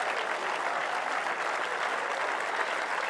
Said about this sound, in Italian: Quindi accogliamo con un grandissimo applauso Cesare Fiorio.